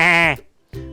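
A sheep bleating as a sound effect in a children's story, a loud close wavering bleat followed after a short pause by a second, shorter bleat.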